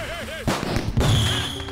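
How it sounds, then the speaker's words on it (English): A fireworks gesture effect from Plants vs. Zombies: Battle for Neighborville plays as a quick series of crackling pops and bursts over game music, with someone talking faintly underneath. "this is another gesture with fireworks"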